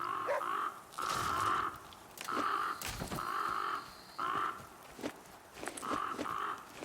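Crows caw again and again in the survival video game The Flame in the Flood, loud harsh calls coming in a steady rhythm of short bursts with brief gaps between them.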